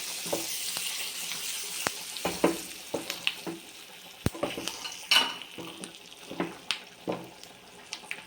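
Hot oil sizzles with sharp crackles and pops as curry leaves fry, interrupted by clinks of a spoon stirring against a pan, close and fairly quiet.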